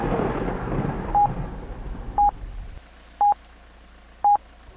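An electronic phone ring in a Roblox horror game sounds as four short, evenly spaced tones about a second apart, heard first over stormy rain and wind noise and then over near silence.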